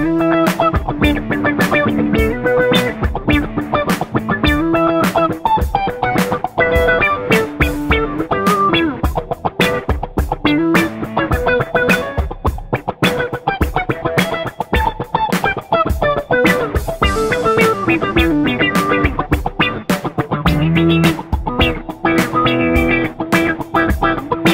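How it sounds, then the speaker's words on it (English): Guitar turned into a synthesizer by the MOTU Megasynth plugin, playing a loud, dense, distorted stream of rapid notes and chords without pause for the whole stretch. "Megasynth is great. You can take your guitar and turn it into a synthesizer."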